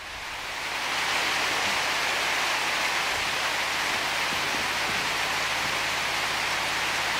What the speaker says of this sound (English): that is a really odd rain effect